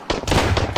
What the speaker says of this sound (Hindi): रुको, इसको शॉटगन मारूंगा, ये ले।